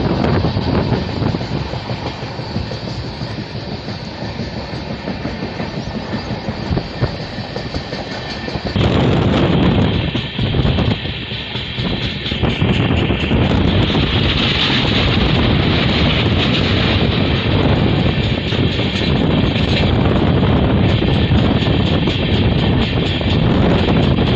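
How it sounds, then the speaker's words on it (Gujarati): A passenger train running from Gandhidham toward Tirunelveli rumbles loudly and steadily throughout, with rail clatter, wind buffeting and a shift in tone partway through as the carriage rolls on. "અત્યારે આપણી ટ્રેન હમણાં જ માળિયા મિયાણા પસાર કરી ગઈ"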